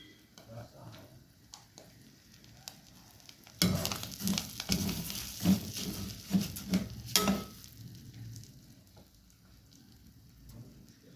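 Lisan al-asfour pasta frying in a pan as it is stirred, with a bright sizzle and repeated scraping strokes swelling for a few seconds in the middle, then settling back to a quiet low kitchen murmur.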